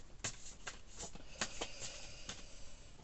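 Tarot cards being shuffled by hand in a series of crisp riffling bursts and soft slaps, close and fairly quiet, with no talking.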